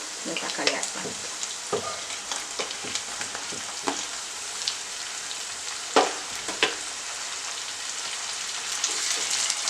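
Chopped tomatoes drop into hot oil for a Tamil-style mutton fry, setting off a loud, steady sizzle with crackling pops and a few stirring scrapes, growing busier toward the end; no voices.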